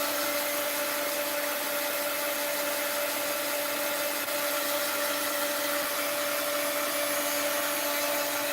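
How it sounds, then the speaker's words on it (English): A heat gun blows with a constant airy whir and a faint high whine, steady and unbroken for the whole stretch, used on painted paper envelopes in a mixed-media craft session. "I'm going to have to hit it a little with the heat gun"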